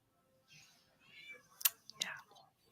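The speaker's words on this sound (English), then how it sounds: "Can you hear Merlin screaming at my door?" Cat meowing at a door, a few faint, drawn-out cries from behind it mixed with quiet whispering and a couple of sharp clicks.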